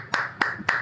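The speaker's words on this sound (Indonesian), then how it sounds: "Saya tepuk tangan dulu." Three sharp hand claps from a single person during a religious discussion, close and evenly spaced, with no talking.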